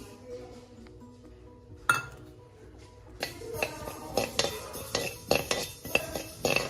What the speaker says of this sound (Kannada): ಸಾಸಿವೆ 50 ಗ್ರಾಂ ಹಾಕೋತಾ ಇದ್ದೀನಿ.